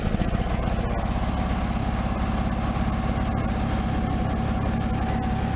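A Snapper mower engine, a 1997 unit awaiting restoration, idles steadily with the throttle about halfway, a close, continuous rhythmic putter at moderate loudness with no one talking.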